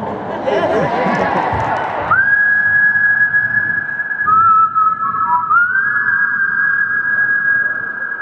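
After a burst of crowd chatter, a man whistles a slow tune, long sustained notes with pitch slides, over faint background murmur.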